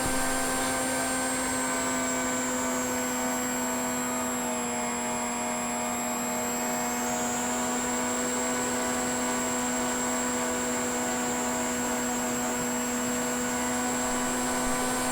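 An RMRC Recruit RC plane cruises at quarter throttle with a steady electric motor whine and constant tonal hum, heard close and even, the pitch shifting slightly midway, with no voices.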